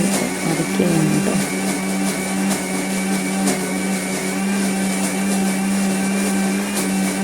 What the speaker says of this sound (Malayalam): ഞാൻ മിക്സി എടുത്ത് ഈ പറഞ്ഞ സാധനങ്ങൾ അരയ്ക്കുകയാണ് കേട്ടോ.